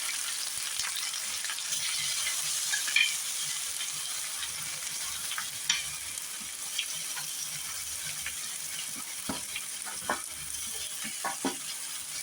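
Grated raw mango sizzling and frying in a pan with curry leaves for mango thokku, a steady hiss broken by occasional sharp crackles and stirring scrapes, with no talking.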